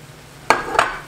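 Two sharp metal clanks of a utensil scraping and knocking against a pan while onion and peppers are stirred, close and distinct over a quiet background.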